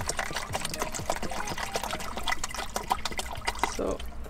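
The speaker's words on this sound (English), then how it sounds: "So now we put some water." Water poured into a pot of rice while cooking on a road trip, a close trickling and splashing pour with small clinks, fairly quiet and uneven.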